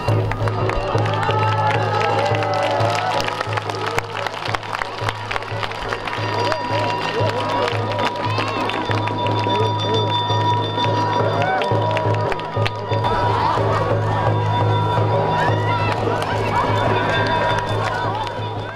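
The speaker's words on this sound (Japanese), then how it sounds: "神様のご利益をいただこうと大きな歓声を上げながら拾っていました。" A crowd at a Japanese kagura festival cheers loudly while scrambling for mochi thrown down from bamboo, continuous excited shouting and clamour with a narrator speaking over it.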